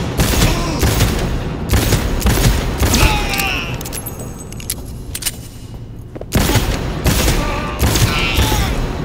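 Rapid bursts of gunfire from the video game Cyberpunk 2077 in a boss fight against a Sasquatch, loud repeated volleys separated by a brief lull, with some scattered mechanical clinks in between.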